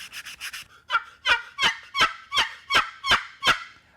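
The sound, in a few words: handmade wooden turkey box call being played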